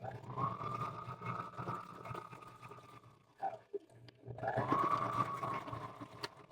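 Sewing machine stitching a French seam with short backstitches at the start and end, a steady mechanical whir in two runs separated by a brief pause with small clicks, fairly quiet.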